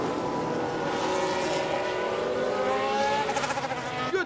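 Formula 1 race car engines in the F1 Manager 22 video game scream past in a sustained, loud, rising whine that swells and then pulses as the cars go by.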